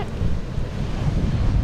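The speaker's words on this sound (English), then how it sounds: "The waves are crashing a bit more before" Ocean waves crashing near a sea cave in Samoa, a loud continuous roar of surf with heavy wind buffeting the microphone.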